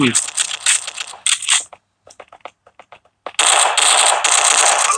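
Rapid automatic gunfire in a Netmarble shooter video game, loud sustained bursts opening the clip, a gap of scattered single shots and clicks, then another long dense burst to the end, with no talk.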